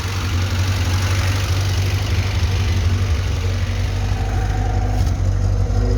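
A VAZ 2105 car engine idles steadily with a low, even rumble and faint mechanical knocking, continuous and close, with no voices.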